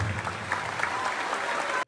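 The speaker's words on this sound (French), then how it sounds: "Applaudissez-vous encore une fois, s'il vous plaît." A crowd claps in a brief, dense burst of applause that cuts off sharply at the end, with faint voices mixed into the sound.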